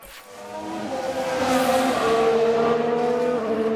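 A Formula 1 car in the racing game F1 Manager 22 screams past with a rising, sustained high-pitched tire squeal and engine whine during a brake lock-up, loud and steady for several seconds.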